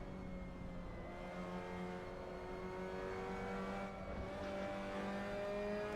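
A Mazda MX5 race car engine drones steadily at high revs around Suzuka East in a racing game, loud and continuous, with a slight lift of the throttle partway through and other cars faintly nearby.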